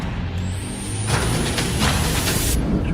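Heavy road traffic on the I-90, a steady broad rumble of cars and trucks nearby, with a long high air-brake-like hiss running through the middle and passing vehicles swelling in loudness.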